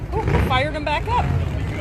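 A drag racing car's engine restarts at the track, heard as a deep, steady low rumble running beneath a commentator's talk.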